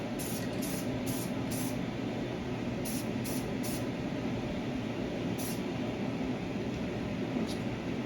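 A spray paint can lays down a light coat on a model roof: short hissing bursts, about five in quick succession, then a second group of three and a couple of isolated puffs, all over a steady background hum.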